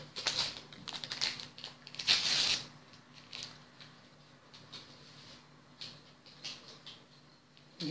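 Crinkly rustling and tearing of a paper packet of baking powder being opened and shaken into sweet dough for crescent cookies, in bursts over the first few seconds, then quieter handling noises.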